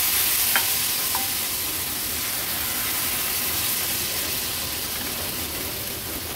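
Ghavan batter poured into a hot pan over a high flame, giving a steady loud sizzle and hiss that holds close throughout with no talk.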